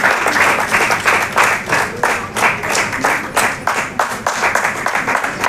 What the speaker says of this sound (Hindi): तालियों की आवाज बहुत कम सुनाई दे रही है